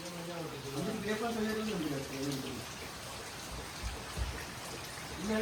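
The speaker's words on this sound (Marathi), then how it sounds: "पाऊस रात्रभर एवढा पडतो आहे हे बघा काय चालू आहे" Steady rain pours down overnight in a Konkan village, a continuous wash of falling water under a voice, with a few louder drips or splashes toward the end.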